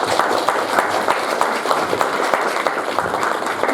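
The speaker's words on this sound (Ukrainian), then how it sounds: "Ще ваші аплодисменти" An audience claps steadily after a lecture on Ukrainian Baroque music. The applause is dense and continuous at moderate volume for the whole stretch.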